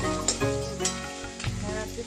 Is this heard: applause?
no